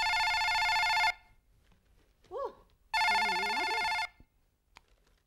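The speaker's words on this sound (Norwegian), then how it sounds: "Ofte når folk ringer og Ella tar telefonen, så tror de det er jeg som svarer." An old-style telephone bell rings loudly in two long bursts on a stage set during a 1997 Norwegian revue, with a short pause between them. A brief vocal sound comes in the gap, and more follows after the second ring.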